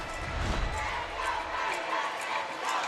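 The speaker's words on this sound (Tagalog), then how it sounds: "The crowd here cheering for the the Choco Mucho Flying Titans and F2 Logistics cargo movers." Crowd noise fills an indoor arena during a professional women's volleyball match between Choco Mucho Flying Titans and F2 Logistics Cargo Movers in the Philippines, a steady roar of cheering voices with faint shouts throughout.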